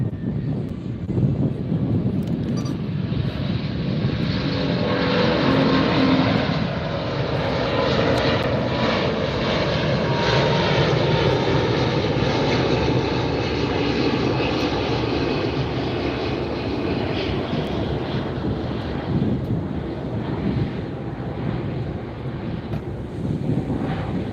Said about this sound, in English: Lufthansa A380. Right there.